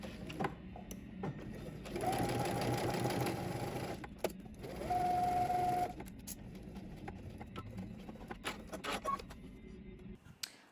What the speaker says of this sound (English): we're going to head to the sewing machine